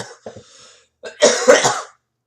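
A short throaty sound followed by a louder burst of two or three harsh coughs, close and alone.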